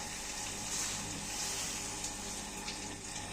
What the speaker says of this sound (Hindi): इसमें पानी डालूँगी, ये आधा गिलास